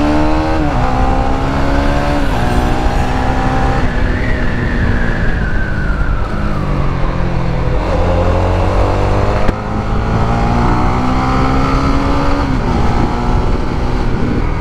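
Engine of a 2024 Honda Winner X motorcycle revving up and down through clutchless gear shifts, loud and close, with repeated pitch rises and drops as gears change, no talk over it.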